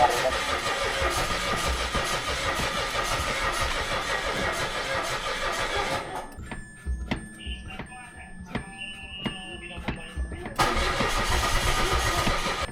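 A car with push-button start cranks repeatedly without catching, a steady grinding starter drone that breaks off midway, leaving a quieter gap with faint clicks before the cranking returns; voices talk around it.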